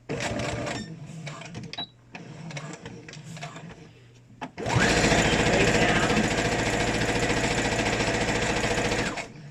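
Sewing machine back stitching elastic onto a homemade fabric face mask, short stop-start bursts of stitching followed by a long, loud continuous run, heard close up.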